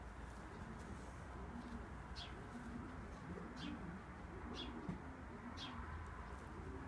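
Wild sparrows give a few faint, brief chirps about once a second over a steady background hum, while pigeons coo low and soft in the background.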